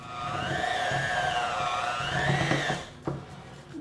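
Electric hand mixer beaters churning chocolate mint cookie dough, a steady whining motor hum with a wavering pitch for nearly three seconds, then stopping with a brief clatter.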